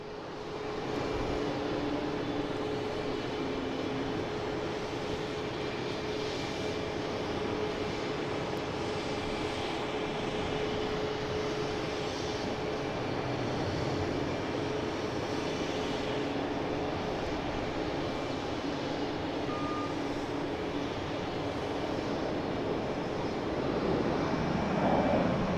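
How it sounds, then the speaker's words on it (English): A United Boeing 737-900 jet bound for Houston takes off from Boston Logan, its engines roaring loudly and steadily for the whole stretch, with a broad rumble and a sustained whine on top and no voices. "getting United out there, heading to Houston, 737-900, flight 1392"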